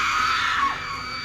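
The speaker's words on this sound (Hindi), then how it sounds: "लेकिन जैसे ही रामधुन की आवाज बंद हुई, एक चीख ने पूरे गांव को हिला दिया।" A woman's shrill, sustained scream rises and then trails off in a dramatized Hindi crime story set in a village, loud and alone with no talk over it.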